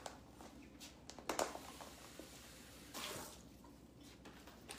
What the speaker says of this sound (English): I'm going to give this a rinse really quickly.